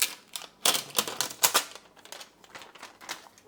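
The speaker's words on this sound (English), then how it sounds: "Then we're going to remove the protective film from the glue card." Protective film peeled off the glue card of a WowCatch flying insect trap, giving a close series of crisp crackling, ripping bursts in uneven rhythm.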